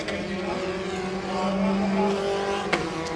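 A Formula 4 race car in a championship race drives hard through the turn 14 chicane, its engine note holding a loud steady drone with shifting pitch, then a brief sharp burst near the end.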